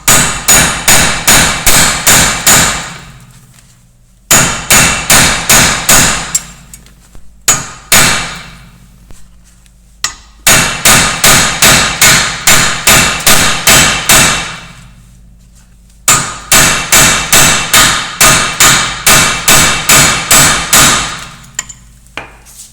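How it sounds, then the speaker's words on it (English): A 4-pound sledgehammer striking a CV axle on a Volkswagen Golf Mk4 TDI to break it free, repeated rapid series of loud, close metallic blows in several bursts with short pauses between. "I'm just going to go ahead and take my 4-pound sledge and break it free"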